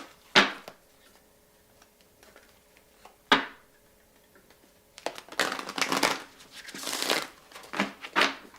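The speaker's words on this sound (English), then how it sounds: "So while I'm shuffling here" Oracle cards being shuffled by hand, a couple of isolated sharp riffles followed by a busier run of rapid papery flicks and slaps close up, with no talk over them.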